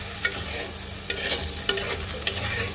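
A spice mixture with a splash of water is stirred in a pan, giving a soft bubbling sizzle punctuated by several light, evenly spaced clicks of the spoon against the metal.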